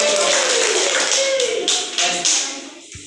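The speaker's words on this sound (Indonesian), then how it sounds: "Tepuk tangan untuk kelompok" Students applaud a classmate group during a micro-teaching class, a dense burst of clapping that thins out over about three seconds, with a teacher's voice running beneath it.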